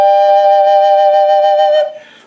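Two Native American flutes played together with all four holes covered hold one steady, pure low note for about two seconds, close and loud, with slight breathy pulsing before the tone cuts off.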